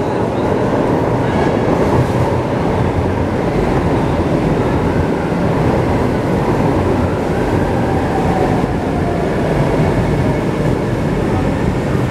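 An MRT train at the north end station gives a steady, loud rumble of rail noise that fills the whole stretch, with no clear voices over it.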